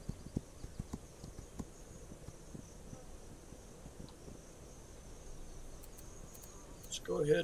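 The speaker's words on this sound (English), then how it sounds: "that's my horse right there" Horse hooves clip-clopping in a video game, light irregular taps over a steady insect-like ambient hum, with a louder burst of sound near the end.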